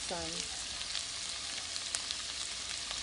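Peppers and a whole onion fry in a pan, a soft continuous sizzle with faint crackles, fairly quiet, with a brief voice sound at the very start.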